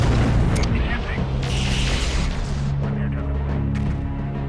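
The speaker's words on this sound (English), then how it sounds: "I head north, but the LRMs track me perfectly, achieving another headshot." LRM missile barrage striking a mech in the PC strategy game MechCommander 2, heavy booming explosions and rumbling impacts that overlap densely and fade slightly, with a voice speaking over the blasts.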